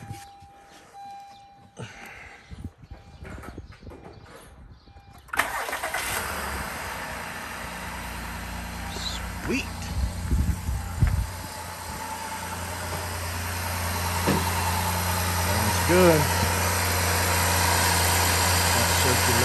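A 2013 Honda car engine, just fitted with a new timing belt, cranks and fires after a quiet stretch of tool noise, then settles into a steady, close idle with a slightly raised hum while people talk briefly over it.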